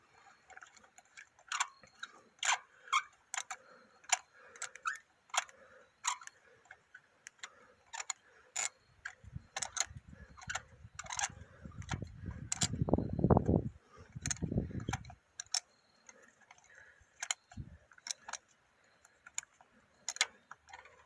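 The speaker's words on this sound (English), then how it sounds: "These should just come right out with a spark plug socket." A spark plug socket on a ratchet backs out spark plugs with a long run of sharp, evenly spaced ratcheting clicks. A burst of low rumbling noise breaks in midway, and the clicking carries on until the end.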